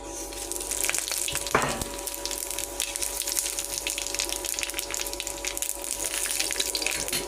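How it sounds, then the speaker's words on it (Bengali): Dry whole spices hit hot oil with browning sugar, making a continuous close sizzle with one louder crackling burst near the start, then a steady frying hiss. "একটু সামান্য চিনি এই যে দেখো চিনিটা লাল হয়ে উঠে উঠছে এবারে দিয়ে দিব শুকনো ফোড়নগুলো"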